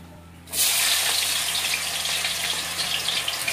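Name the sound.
potatoes frying in a pan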